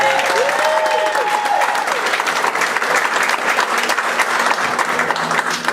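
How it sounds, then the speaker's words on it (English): An audience at a Madison Idol 2019 singing competition applauds contestant Marie, loud sustained clapping throughout, with a faint musical tone briefly beneath the start. "Please give Marie a nice round of applause."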